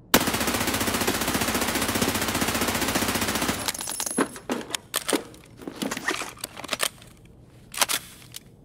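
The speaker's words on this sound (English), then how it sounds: "So here's point shooting with the laser on on the IR mode." Sustained full-auto bursts from a P90 in Escape From Tarkov, fired from the hip with an IR laser fitted: about three and a half seconds of loud, dense rapid fire, then scattered clicks, rattles and short mechanical knocks.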